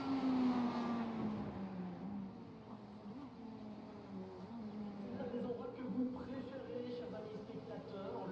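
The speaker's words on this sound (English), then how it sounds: "Hopefully you guys can hear the cars going around." GT3 race cars lapping the Magny-Cours circuit during a winter road race, engines droning and shifting pitch as they pass at a distance, with voices talking over the steady track noise.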